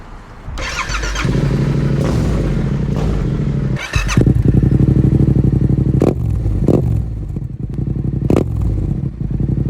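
Yamaha MT-07 motorcycle engine revving up close, loud throttle blips and sustained revs with rising and falling pitch, sharp bursts around a few seconds apart over a steady rumbling idle.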